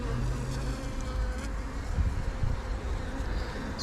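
Steady, dense buzzing of many honey bees swarming close by around an opened hive, a continuous drone with no talking.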